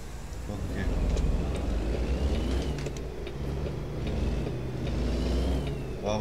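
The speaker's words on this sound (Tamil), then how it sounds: "வாவ் சவுண்டு, இன்ஜின் சவுண்ட் செமையா இருக்கு." A truck engine idles and pulls steadily with a deep low rumble in American Truck Simulator, a constant droning hum with faint wind-like hiss and occasional light clicks.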